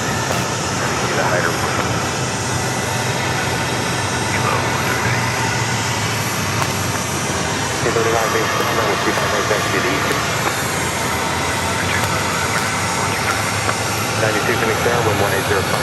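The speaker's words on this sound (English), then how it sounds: "again we have Southwest Airlines coming in, Southwest Flight 1969 coming in from Boise. It's a Boeing 737." A Southwest Airlines Boeing 737 lands at Phoenix Sky Harbor, a steady broad engine roar holding throughout with voices talking over it.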